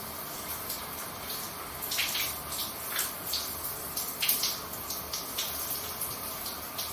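Water runs steadily from a tap while hair is being wet at home, a soft, continuous splashing hiss with small irregular spatters as the hair moves through the stream.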